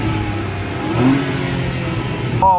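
Renault Vel Satis with a 3.5 V6 engine revving up, a loud close mid-pitched engine note that swells and climbs briefly before a short exclamation at the end.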